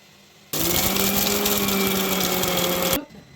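A mixer grinder starts abruptly and whirs loudly at a steady, high-pitched motor whine for about two and a half seconds, then cuts off.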